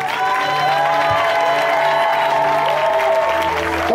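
A church congregation applauds and cheers the Lord at a Sunday revelation festival service, steady crowd clapping and cheering beneath sustained organ or keyboard tones.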